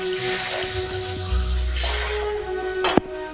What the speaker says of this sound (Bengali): দিয়েও আমি এই জলটা অ্যাড করলাম।